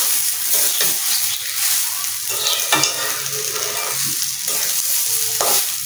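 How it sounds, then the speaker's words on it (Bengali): Spiced rice is stirred and fried in a wok, with a steady sizzle broken by repeated scraping strokes of the spoon against the pan, close and clear with no talking. "তাই কড়াইতে কষিয়ে নিচ্ছি"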